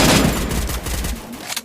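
Rapid gunfire in the mobile battle game Free Fire as a squad shoots at a car, loud bursts and overlapping shots that thin out toward the end.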